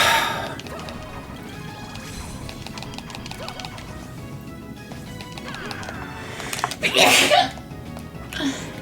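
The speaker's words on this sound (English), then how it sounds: "Gesundheit." A person sneezes once during a Castlevania: Order of Ecclesia game stream, a sharp, loud burst near the end rising over a continuous bed of game music and effects.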